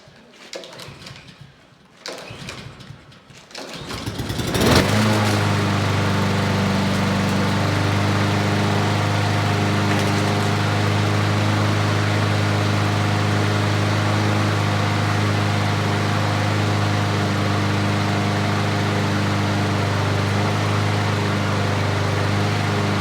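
A 2020 Craftsman lawn mower engine catches after a few rough pull attempts, then runs at a steady, loud idle close by with an even mechanical drone.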